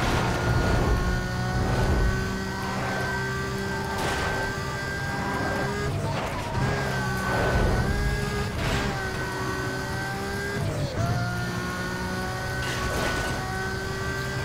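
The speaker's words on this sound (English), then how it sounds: "Nešto zuje ovaj auto, kao neka bušica." A car in Need for Speed Most Wanted drones with a steady, high-pitched engine whine that buzzes like a drill, holding a constant pitch with slight shifts throughout.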